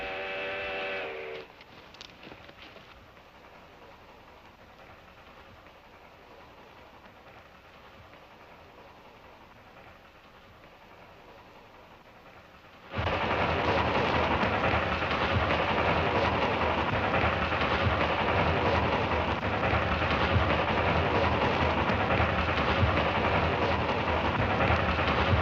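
A steam train draws near in a 1955 Western setting, a brief whistle-like tone sounding at the start before a loud, steady roar of rolling wheels and steam rushes in and holds to the end.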